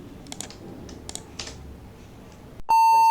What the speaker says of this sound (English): After hearing the beep sound, you have to click on VM settings and then change the floppy disk to disk 2.